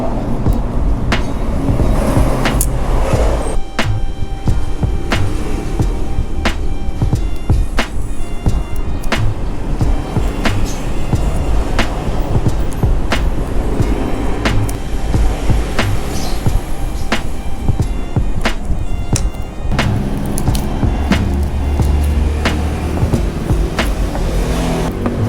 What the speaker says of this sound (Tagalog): Gusto ko sana mag-ASMR kaso lang dami na bang sasakyan.